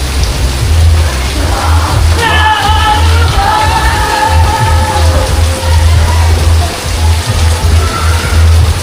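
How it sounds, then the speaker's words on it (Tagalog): Heavy rain pours in Boracay, a steady loud hiss of drops close by, with a low rumble underneath and some faint tonal sounds in the middle. "See, lakas ng ulan."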